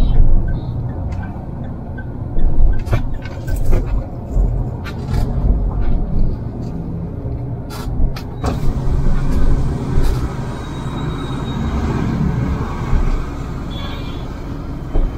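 A Mahindra Thar drives into a service center, its engine giving a low rumbling drone with small swells in level, mixed with nearby clanks and workshop noise.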